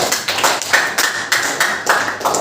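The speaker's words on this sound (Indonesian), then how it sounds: "beri tepuk tangan untuk kalian semua" Students in a classroom clap together in a loud, rhythmic pattern of repeated bursts, close and clear, with no talking over it.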